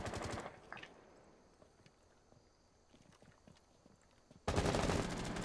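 Rapid automatic gunfire in the Rainbow Six Siege video game rattles in loud close bursts at the start and again at the end, with quieter clatter and footsteps between.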